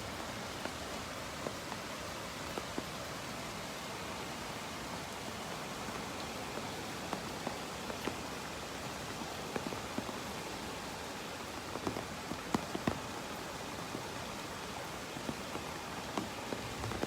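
Heavy rain pours steadily during the Walnut Creek flooding in Austin, Texas, a dense, even hiss of water with scattered sharper drops, no voices present.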